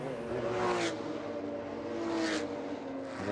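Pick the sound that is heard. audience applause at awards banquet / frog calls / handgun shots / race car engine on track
race car engine on track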